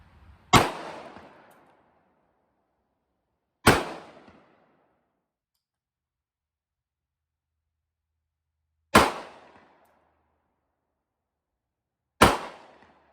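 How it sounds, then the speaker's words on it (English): Four sharp gunshots from a Bond Arms Derringer .410 loaded with birdshot and a slug at an outdoor range, each a loud crack with a short decaying tail, spaced several seconds apart. "So now I have a birdshot in the top chamber, which will fire first, and a single slug in the bottom chamber"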